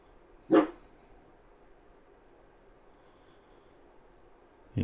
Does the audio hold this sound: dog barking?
yes